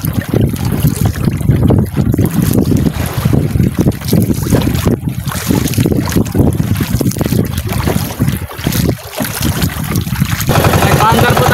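Loud, constant engine drone and water rush from a nearby fishing boat passing before dawn, with heavy wind buffeting the microphone throughout.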